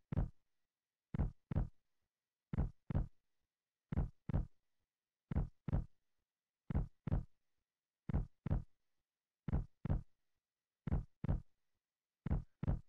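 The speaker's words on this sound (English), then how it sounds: "And the heartbeat thing isn't supposed to be the same." Heartbeat effect from the video game Final Fantasy VII: steady, isolated double thumps repeat in an even rhythm, deep and muffled against silence.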